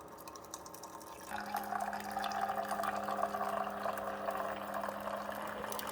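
Water runs from a Keurig K Latte single-serve coffee maker, starting as a light trickle and then settling into a steady, even stream with a pump-like hum beneath it, close and continuous with no talking.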